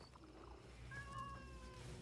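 A single close, drawn-out cat meow from Assassin's Creed Shadows rises out of a quiet low background hum.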